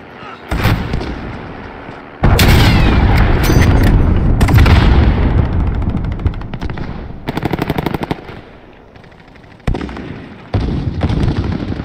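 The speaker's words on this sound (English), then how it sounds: "Enemy cruise missile incoming." An enemy cruise missile strike in Call of Duty Modern Warfare: loud booming explosions mixed with rapid automatic gunfire in bursts, close and intense throughout.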